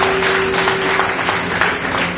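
Steady crowd applause fills the whole stretch, a dense wash of clapping with a faint tone humming underneath.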